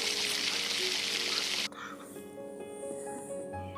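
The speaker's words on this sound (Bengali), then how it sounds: "তো এখন আমি এটা লাল লাল করে ভেজে নিচ্ছি।" Watermelon rind and egg pakora fry in hot oil, a steady broadband sizzle for the first half that drops to a softer, quieter bubbling after a sudden change midway.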